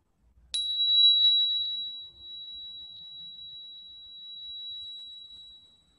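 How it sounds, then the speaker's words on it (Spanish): A single bell or chime struck once, a sharp clear attack followed by a long pure ringing tone that decays slowly over several seconds in an otherwise quiet setting. "Al sonar la campana, empieza a correr el tiempo."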